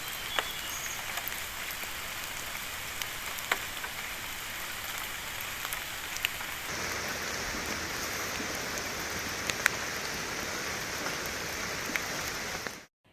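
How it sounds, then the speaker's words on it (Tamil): Heavy rain pours down steadily in Kalpakkam, flooding the roads. It is a dense, unbroken hiss with no letup, no voices, and an abrupt cut at the end. "கல்பாக்கம் மற்றும் சுற்றுப்பகுதிகளில் கொட்டிய மழையால் சாலைகளில் தண்ணீர் பெருக்கெடுத்து ஓடியது"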